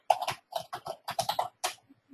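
A web address typed on a computer keyboard, a close run of quick, uneven key clicks in short bursts.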